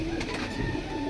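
Jacobin pigeons cooing softly at close range, a low steady murmur over a faint hum, with no one speaking.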